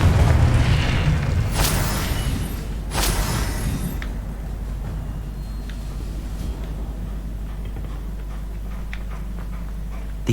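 Confringo blasting spell cast in Hogwarts Legacy: two sharp booming bursts close together early on, then a low rumbling tail that fades under steady background noise.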